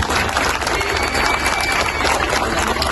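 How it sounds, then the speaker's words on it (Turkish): A political rally crowd gives a big round of applause for supporting organisations, steady dense clapping sustained at full volume throughout with crowd noise underneath. "destek olan tüm kurul ve kuruluşlara da yürekten koca bir alkış göndermenizi rica ediyorum"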